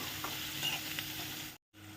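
Onion fries in a pan alongside ginger already added, a close, continuous sizzle with faint stirring scrapes that cuts out abruptly for a moment near the end before resuming.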